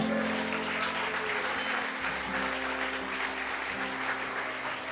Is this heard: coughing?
no